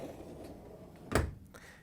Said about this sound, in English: Then we can close the dishwasher door